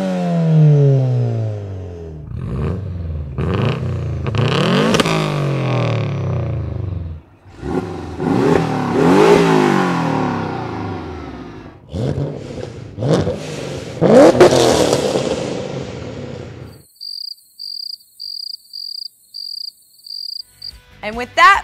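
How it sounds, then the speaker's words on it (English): A car engine revs repeatedly through a loud modified exhaust, rising and falling in sharp pulls, followed by a brief rhythmic chirping at the end. "we've got some examples of some really cool exhaust sounds"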